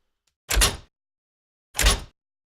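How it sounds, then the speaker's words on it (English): Two separate mechanical clicks from the Doom chaingun revolve startup, a video game sound effect, each a short sharp burst with a brief rattling body, spaced about a second apart with silence between. "we've got a click that fires off when we first start the revolve sound"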